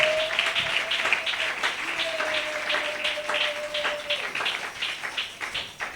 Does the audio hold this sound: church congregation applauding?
yes